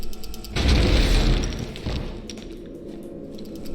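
A heavy booming blast from an explosive punch weapon in the video game Biomutant erupts and rumbles for about a second, then decays into a lower sustained roar with faint mechanical ticking.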